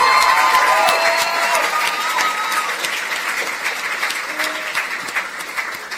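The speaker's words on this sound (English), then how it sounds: "Give Kendall a round of applause, please. Make some noise." An audience at a national youth awards ceremony applauds and cheers loudly, with dense sustained clapping and shouts that stay strong for the whole stretch and fade only slightly toward the end.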